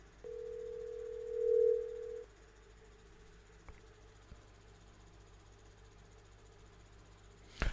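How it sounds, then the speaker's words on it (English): A steady telephone dial tone comes through a call-in phone line for about two seconds, fairly loud, then cuts off and leaves a faint hissing open line with a couple of small clicks. "The phone line open."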